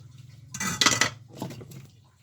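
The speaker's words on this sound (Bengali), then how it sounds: "ঢাকনা দিয়ে ঢেকে দিয়েছি। ঢাকনা উঠে দেখি" A metal lid is lifted off a cooking pot of lentils simmering with radish, producing a short clattering clank and scrape, followed by a fainter second rattle, close up with a quiet hum underneath.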